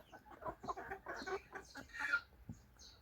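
Chickens of a very large breed, kept as egg layers, clucking in a series of close, moderately loud calls with no talk over them.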